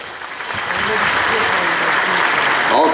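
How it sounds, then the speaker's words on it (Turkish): Crowd applause at a university graduation ceremony, a steady dense clatter of many hands filling the hall from start to finish, with some voices audible beneath it. "Bir daha alkışlar lütfen"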